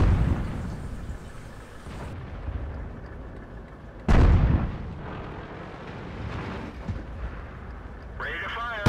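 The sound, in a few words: artillery fire in World of Tanks video game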